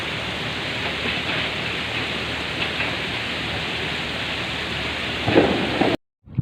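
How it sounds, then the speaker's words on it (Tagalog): Heavy rain pours steadily at sea near a Coast Guard vessel, a dense broadband hiss that stays loud throughout, with a brief louder gust near the end before it cuts off abruptly. "Oh, lakas ang ulan."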